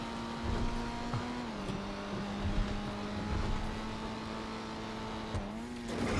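Car driving in the GTA video game, a steady engine hum holding one pitch with a brief shift down and back up, moderately loud and continuous, with faint bumps over the drone.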